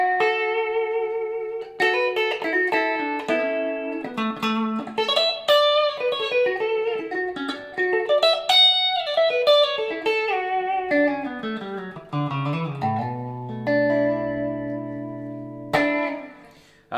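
Clean Music Man Axis Super Sport semi-hollow electric guitar played through a Marshall amp, single notes and chords ringing out with a touch of reverb, then a sustained low note at the end.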